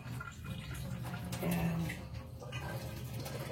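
Boiling water is poured off cooked jackfruit in a kitchen pot, a faint, steady watery rush and trickle at low volume, with a brief spoken word partway through.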